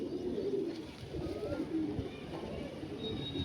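Pigeons, including a prize-bred male from a champion bloodline, coo in a low, continuous rolling murmur that carries on steadily throughout, fairly close and moderately loud.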